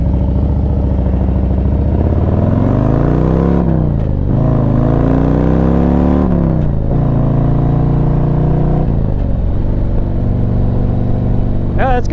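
2024 Harley-Davidson Street Glide V-twin loudly accelerating through several gears, each pull rising in pitch then dropping at the shift, with a constant rumbling engine drone throughout.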